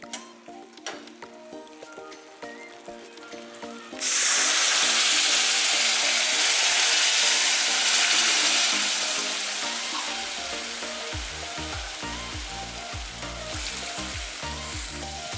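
Water poured into roasted amaranth flour in a hot pan erupts into a sudden loud, hissing sizzle that slowly settles, followed by rhythmic stirring scrapes; quieter clinks of the pan come before the pour.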